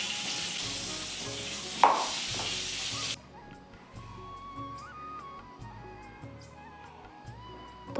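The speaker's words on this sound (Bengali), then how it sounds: "এখন আমি বেগুন ভেজে নিচ্ছি" Eggplant fries in hot oil with a loud, dense sizzle for about three seconds, then the sound drops abruptly to a much quieter background.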